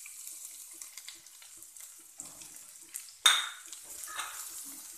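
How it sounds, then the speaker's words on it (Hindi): Onions sauté in a pan over a medium-high gas flame, a faint sizzle with light stirring taps and one sharper clatter partway through, and no voices. "मीडियम गैस का फ्लेम मीडियम हाई पे रखें और इसको चलाते हुए प्याज को सौते कर"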